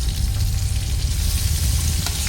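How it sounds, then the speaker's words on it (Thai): Catfish sizzles and crackles in hot oil, a steady close-up frying hiss that continues without pause. "ทอดปลาให้เหลืองกรอบนะครับ"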